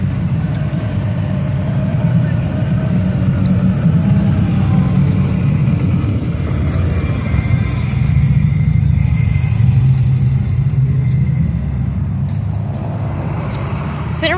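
Motorcycles, including a Harley, rumble around a small-town square in Centerville, Tennessee, their steady engine drone continuous and fairly loud throughout, with some talk faintly underneath.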